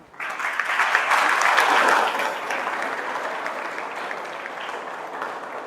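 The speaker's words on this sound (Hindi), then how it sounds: "अपने लिए तालियां" An audience at a youth event against drug addiction breaks into loud, sustained clapping that peaks early and then tapers off to a steadier, softer patter.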